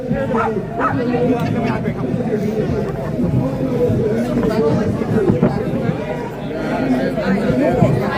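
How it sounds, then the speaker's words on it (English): Dogs bark and yip amid a noisy street protest in Newry, with a crowd's babble and nearby voices talking throughout; the barking comes in scattered, moderately close bursts under the hubbub. "Dogs are here too."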